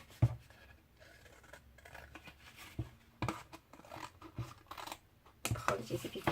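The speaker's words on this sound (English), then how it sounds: "So all I'm going to do is take my scissors and cut them out." Scissors snip paper triangle shapes for a gift box, making sporadic close-up clicks and cuts with pauses in between and a louder burst of handling near the end.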